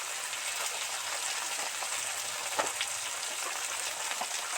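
Okra and small chuno fish frying in oil for a spicy charchari, a steady close crackling sizzle with scattered louder pops, continuous with no talking.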